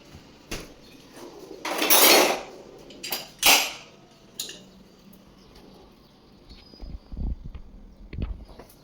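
Salad being tossed with lemon juice and olive oil in a bowl, giving a few clattering, scraping bursts of utensils against the dish, loudest early on, then softer scattered clinks and rustles with no talking.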